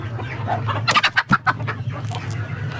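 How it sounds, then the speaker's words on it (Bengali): Chickens cluck beside a rooster at an egg and poultry stall, with a quick burst of close, loud clucks in the middle of the clip over a low background hum and no speech. "মোরগ আছে।"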